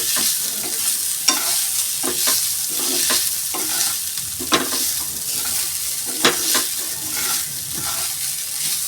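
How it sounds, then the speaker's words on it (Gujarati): Crushed green pigeon peas sautéing over a low flame, with a steady soft sizzle and scattered scraping stirs against the pan, close and continuous with no talk. "આપણે ધીમા ગેસે એને સાંતળીશું"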